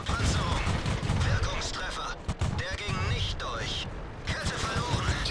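Gunfire in a tank video game, with an M8A1 in play. Dense, loud bursts of shots and crashing impacts come through almost continuously, mixed with mechanical clatter and a voice talking over it.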